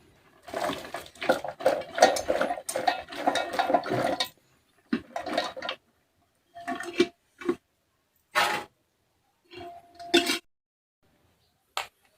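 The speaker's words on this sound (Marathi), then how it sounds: "आता याच्यामध्ये शेंगा वेगळ्या आणि पाणी वेगळं करून घ्यायची" Boiled peanuts and their cooking water pour through a strainer into a wok, beginning with a long watery rush and then a handful of shorter splashes and rattles separated by pauses.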